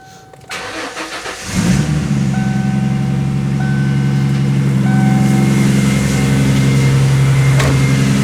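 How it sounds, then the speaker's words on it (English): A Ford Mustang engine starts up after a brief crank and settles into a steady, loud idle close by, with faint repeating beeps over the running engine. "So now I'm going to start the engine"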